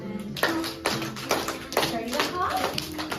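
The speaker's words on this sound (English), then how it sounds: "And then you clap our hands." Children clapping their hands during an action song at a school board meeting, a run of sharp claps under children's voices speaking and singing.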